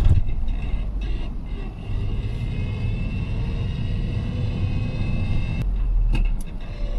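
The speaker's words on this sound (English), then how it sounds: "So just now sitting at traffic lights, put it in neutral, yeah, easy. First gear," A street car fitted with a sequential gearbox idles at traffic lights and is shifted from neutral into first gear, a steady low engine rumble with a few faint clunks and a brief louder mechanical knock near the end.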